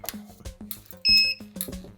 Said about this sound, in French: Oh, bip.